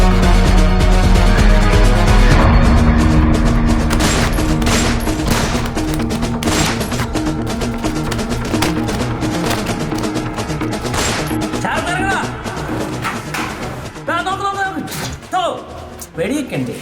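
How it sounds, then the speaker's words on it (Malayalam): Gunfire sound effects from a low-budget action short film ring out in loud sharp bursts over dense music, with voices and other impacts mixed in. "വെടിയൊക്കെ ഉണ്ട്."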